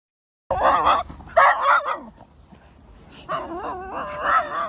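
A dog eager to play with another dog gives a run of close, excited barks and whiny yips in two bursts, then a quieter pause before more yelping vocalizations.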